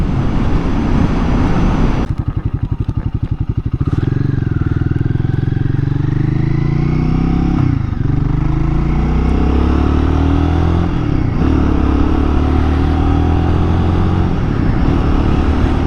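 A Royal Enfield Guerrilla motorcycle, ridden just after its first service, pulls away and accelerates, its steady engine note climbing in rising sweeps through several gear changes, with continuous road and wind rumble close up.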